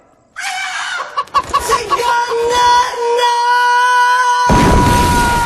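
A rooster clucks in a few sharp bursts, then lets out a long, loud crow up close, ending in a harsh noisy blast.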